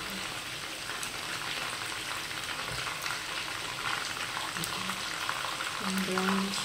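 Meat sizzles and fries steadily in a pan, a soft continuous crackle with occasional clinks, heard alone without speech.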